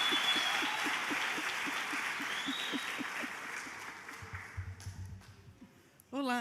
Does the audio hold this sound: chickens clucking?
no